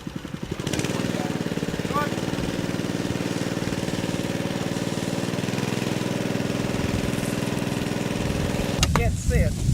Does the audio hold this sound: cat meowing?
no